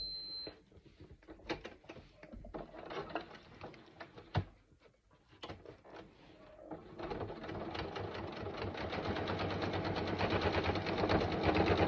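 Sewing machine stitching a zipper panel for a backpack, starting with scattered clicks and short bursts, then running in a continuous fast, rattling stitch that grows louder toward the end.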